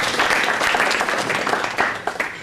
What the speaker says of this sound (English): Give these folks a round of applause